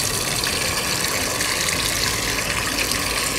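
Coolant pours steadily into a large neglected farm tractor's cooling system, a continuous close rushing gush of liquid filling the radiator with no pauses.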